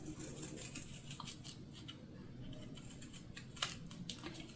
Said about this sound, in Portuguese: Aqui eu vou aproveitar e já vou cortar antes de costurar.